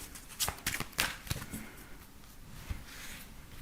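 Tarot cards are shuffled for a card reading: a few quick, close riffling bursts followed by softer, faint handling sounds, all quiet and without talk.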